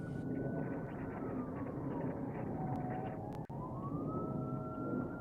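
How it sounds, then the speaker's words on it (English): Sirens wail in the dark in Palestine, a wavering tone rising and falling at a distance over a low steady rumble, with no talking. "I hear it, and I hear sirens too."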